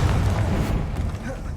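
A Confringo blasting spell from the video game Hogwarts Legacy erupts in a heavy booming explosion, loud and low at the start, then rumbling and fading over a second and a half beneath a speaking voice.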